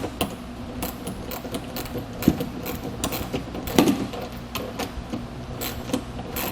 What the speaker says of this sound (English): Get this tightened down with 13mm socket and wrench.